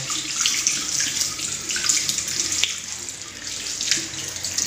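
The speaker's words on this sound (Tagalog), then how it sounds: "inom sa tubig ang iring" Steady running water from a tap splashes into a basin as a cat drinks from the stream, with faint intermittent lapping ticks over the continuous flow.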